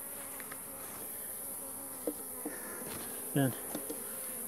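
Honeybees hum steadily inside a weak colony's hive while the queen walks the comb looking for cells to lay in. The buzzing is continuous and close, with a few brief louder bursts and a single short spoken word.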